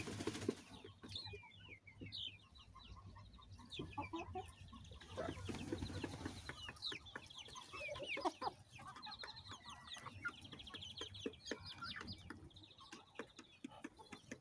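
Adler breed hens and a rooster cluck and call around a farmyard coop, with bursts of wing flapping, a steady mix of close and farther fowl voices throughout.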